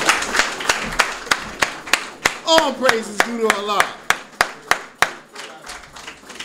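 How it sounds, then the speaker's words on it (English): Rhythmic clapping for Brother Nelson at a religious teaching gathering: sharp, evenly spaced claps in a steady beat, running under someone speaking. "Let's give Brother Nelson a round of applause"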